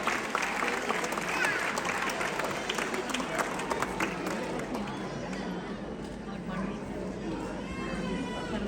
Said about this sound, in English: let's give a huge round of applause to everybody standing out here